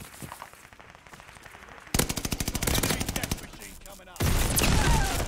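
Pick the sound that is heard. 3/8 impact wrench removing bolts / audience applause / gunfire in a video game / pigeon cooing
gunfire in a video game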